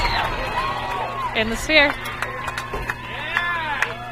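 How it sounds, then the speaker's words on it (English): Spectators cheer and shout from the stands at a 5A girls lacrosse semifinal between Olympus and Brighton, with scattered whoops and rising calls mixed under a commentator's voice, the crowd noise swelling in short bursts. "Crowd cheering on Sarah Hart."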